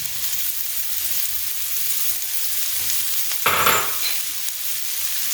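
Onions frying in oil in a pan, a steady close sizzle with a brief louder hissing flare midway, heard alone without talk.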